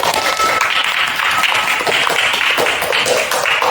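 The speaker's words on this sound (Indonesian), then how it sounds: "Beri tepuk tangan untuk kelompok" Classroom students clap for a student group, a dense, steady patter of many hands held at close range throughout the few seconds.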